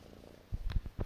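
A pet cat purrs up close in a few short, rumbling pulses, soft and low, following a quiet moment.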